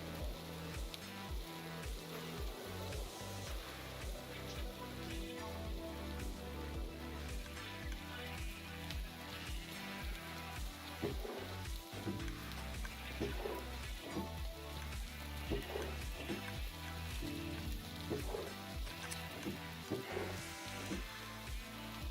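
Rain falls steadily in Minecraft, a constant soft hiss of drops beneath layered background game music that plays throughout.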